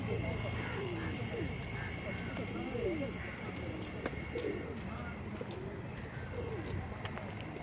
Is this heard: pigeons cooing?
yes